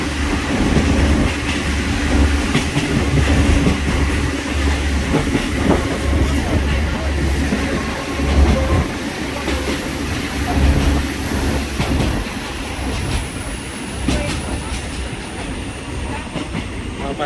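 Passenger train 313 from Hua Lamphong to Bang Sue in Bangkok, heard from on board: a steady loud rumble with rhythmic clickety-clack of wheels over rail joints and a faint high whine, continuous throughout.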